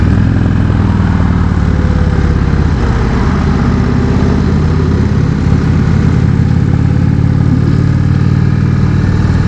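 An Indian Chieftain motorcycle is ridden on the road, a loud continuous engine rumble mixed with heavy wind rush, steady throughout with no talking.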